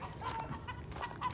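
Brief, quiet clucking and squawking from fowl nearby, a few short calls over a faint background.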